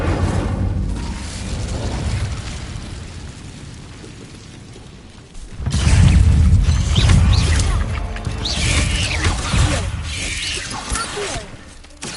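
The Incendio fire spell being cast in Hogwarts Legacy: a rushing burst of flame and crackling effects swells loudly midway over a low rumble, with clattering game sounds and some background voice.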